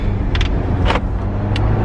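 A steady low engine hum and road rumble fill the cabin of a moving car, with a few brief faint clicks and rustles on top and nobody speaking.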